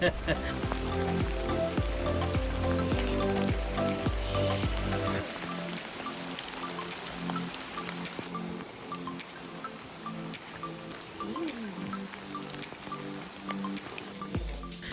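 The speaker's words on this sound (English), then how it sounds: "if you're thinking we've had enough rain by now, wrong" Rain falls on a visit to the crater near the Thurston lava tube in Hawaii, a continuous close patter and dripping, with a shift partway through as a background drone drops out, and people talking faintly.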